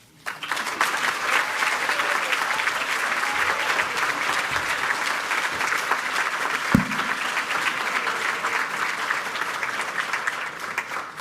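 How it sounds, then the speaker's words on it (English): Sustained applause from a large crowd at a celebration dinner after a speech, steady and dense clapping throughout with no voices standing out, one sharp thump partway through. "I think we need to hear that round of applause again."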